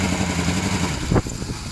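A small engine runs steadily with a rough, clattering idle, then a brief louder burst before it settles back to a steady drone.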